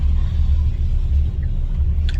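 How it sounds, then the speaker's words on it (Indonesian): A steady low rumble of a taxi's interior while driving at night in congested traffic near Masjidil Haram in Mecca, with a droning engine and road noise filling the cabin and no voices. "Ini lagi di taksi menuju balik ke Masjidil Haram."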